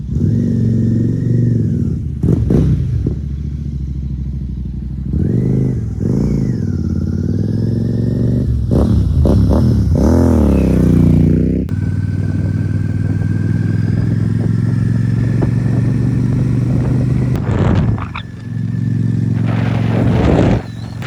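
A Royal Enfield Super Meteor 650 motorcycle engine drones loudly while riding to warm up, revving up and easing off through gear changes, with steady wind and road noise throughout.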